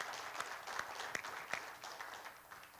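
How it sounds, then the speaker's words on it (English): Faint, thin applause from a small audience at a business summit and networking event, with scattered distinct claps over a soft wash of clapping. "we need to give Nana a round of applause"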